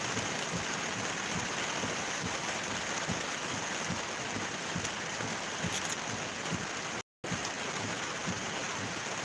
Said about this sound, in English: That is some heavy rain.